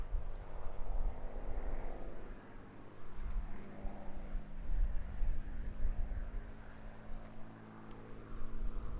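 A 1944 P-51D Mustang fighter with a bubble canopy flying at the Eastbourne International Airshow, its propeller engine droning steadily and swelling and fading as it passes at moderate distance.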